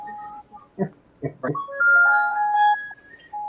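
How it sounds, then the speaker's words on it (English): Tinkling electronic jingle from an ice cream truck passing by, a bright looping melody rising and sustaining at moderate distance after a few short thumps. "Either that or an ice cream truck going by"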